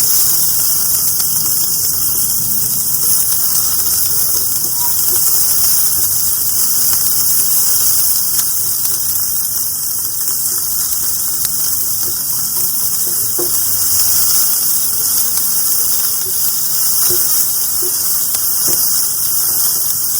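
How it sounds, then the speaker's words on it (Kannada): Onions frying in a pan for bhindi fry give a steady, even hiss and crackle that runs unbroken throughout, close and fairly loud, with no talking. "ಇವಾಗ ನಾನು ಆನಿಯನ್ಸ್ ಹಾಕೊಂತಾ ಇದ್ದೀನಿ. ಇವಾಗ 2 ಮಿನಿಟ್ಸ್ ಫ್ರೈ ಮಾಡ್ಕೊಳೋಣ."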